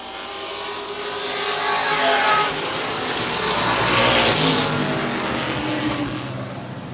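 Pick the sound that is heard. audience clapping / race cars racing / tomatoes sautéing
race cars racing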